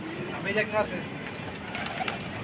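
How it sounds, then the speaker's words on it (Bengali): Pigeons cooing at a pigeon market in Bangladesh, a couple of soft throaty coos close by amid a steady murmur of market chatter and background noise. "কবুতর কোনটা কোনটা উড়ে কোনটা কোনটা উড়ে না"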